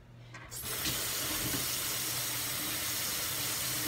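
Water runs steadily from a tap into a sink during a simple hair mask preparation, starting abruptly and continuing as a constant close rush with no talking.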